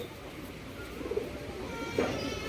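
Black Giribaz pigeons of Panja quality coo faintly in short, low bursts over a steady background wash in damp, overcast weather.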